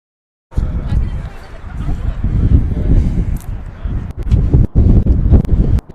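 Wind blows across an outdoor sports field during a Friday afternoon high school game, buffeting the microphone with loud, gusty rumble for several seconds while faint crowd noise and distant voices sit underneath.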